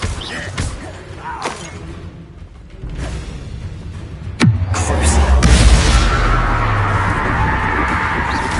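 A Confringo blasting spell from the Hogwarts Legacy video game bursts into a sudden loud boom with a rushing whoosh, then a sustained rumbling roar that lingers for several seconds.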